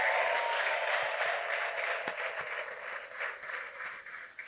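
A gathered church congregation clapping and ululating, a sustained dense wave of applause with high trilling cries that slowly thins toward the end.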